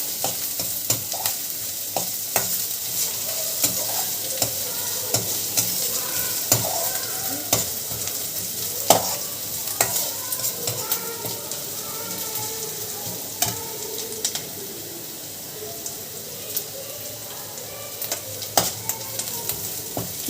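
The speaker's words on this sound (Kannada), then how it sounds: "ಈರುಳ್ಳಿ ಬೆಳ್ಳುಳ್ಳಿ ಚೆನ್ನಾಗಿ ಬೆಂದ ನಂತರ ಹೆಚ್ಚಿಟ್ಕೊಂಡಿರೋ ಟೊಮೆಟೊನ ಸೇರಿಸೋಣ" Onion, garlic and tomato fry in a pan with a steady, close sizzle, while a utensil repeatedly scrapes and stirs through them in frequent short strokes, with no talking.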